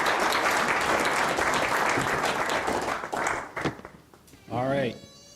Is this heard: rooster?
no